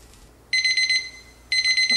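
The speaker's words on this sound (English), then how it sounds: "there's our timer" Kitchen timer going off in a home kitchen, two bursts of rapid high electronic beeping with a short silent gap between them, clear and close.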